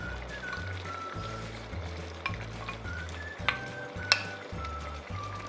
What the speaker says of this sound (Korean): 그럼 마지막으로 이 고명을 넣고 한 5분 정도만 더 끓이겠습니다.